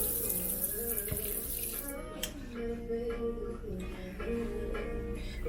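Water runs and splashes steadily as a clay pot is set down into water in a kitchen, with clinking and a low background hum throughout.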